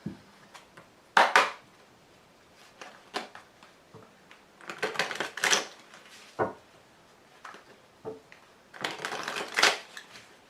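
Tarot cards being shuffled and laid out on a surface, with bursts of riffling and sliding cards between quieter gaps and soft taps as cards land, close by.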